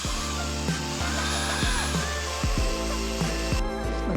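Power drill with a polishing pad buffing a pickup truck headlight during a restoration, running steadily up close with repeated pitch dips and surges as it bites the lens, without talk.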